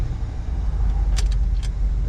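A 1975 Ford F100 4x4 pickup's engine pulls low and rumbling after an upshift, with a couple of brief metallic jingles from inside the cab.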